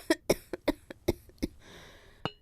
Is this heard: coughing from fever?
yes